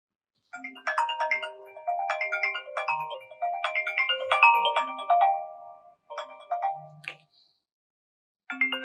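A phone ringtone plays a bright, chiming melody in repeated bursts that pause and then start again, clear and close, in a scene from a Pakistani drama. Nobody speaks.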